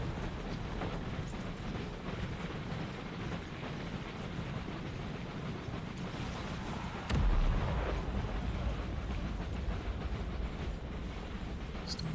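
Artillery cannons fire on a battlefield in Empire: Total War with a continuous low rumble of distant guns. A louder, closer blast lands about midway and keeps booming for some seconds.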